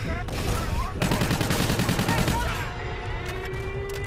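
Chaotic gunfire in Call of Duty Infinite Warfare, a steady crackle of overlapping shots that swells into a denser rapid burst midway, then thins out into scattered distant fire, with game voices underneath.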